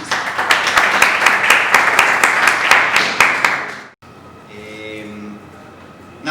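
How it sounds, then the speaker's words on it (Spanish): Strong applause from a live panel audience at a copyright discussion event, loud dense clapping for about four seconds that cuts off sharply, followed by quieter room sound with a voice. "Démosle un fuerte aplauso a nuestros panelistas."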